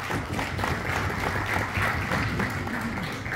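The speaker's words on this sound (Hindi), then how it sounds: "मैं चाहूंगा कि आप अपने लिए और हम सब के लिए बहुत जोरदार तालियां हो जाएं।" An audience at a gathering in Frankfurt breaks into steady, loud applause, a dense wash of many hands clapping together with no pauses throughout.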